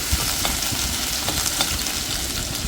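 Finely chopped ginger sautéing in a pan for mango pickle, an even close sizzle with faint scattered stirring taps throughout.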